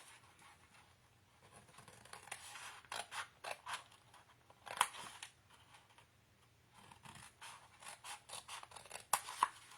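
Scissors snip through scrapbook paper up to a score line in repeated close, crisp bursts, pausing now and then between runs of quick cuts, with no voices.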